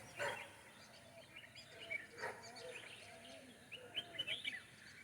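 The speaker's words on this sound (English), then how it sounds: "Small musical sounds of birds, small birds" Small birds chirp and tweet in quick, bright bursts against a soft evening hush in a tea garden, some calls close and others farther off.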